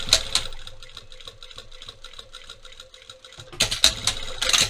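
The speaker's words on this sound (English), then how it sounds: "now we're going to baste it in place with the machine at at 1/4 of an inch seam allowance" Sewing machine basting a trouser back welt pocket at a quarter-inch seam allowance: rapid mechanical stitching chatter, steady then pausing briefly before a louder, busier burst near the end.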